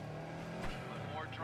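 Car engine from the video game Cyberpunk 2077, a steady hum that rises into a brief revving surge with faint tire noise, heard under game dialogue.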